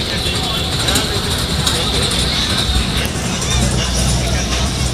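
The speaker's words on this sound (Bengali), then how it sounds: "সেটা হচ্ছে ট্রেন, ড্রাগন ট্রেন" A dragon train amusement park ride rumbles along amid a busy outdoor crowd, with steady chatter and a low mechanical drone that swells toward the end.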